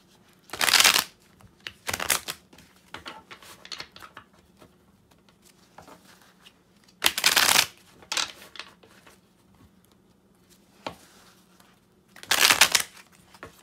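Tarot cards shuffled in three quick riffling bursts separated by quiet pauses, crisp and close, with faint handling noises between.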